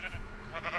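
Sheep in a Minecraft hardcore survival game let out a couple of short bleats, close and moderately loud, with a voice speaking alongside.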